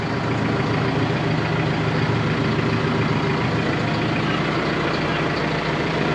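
Old farm tractor engine running at a steady idle, a continuous low rumble close by with no break or change throughout.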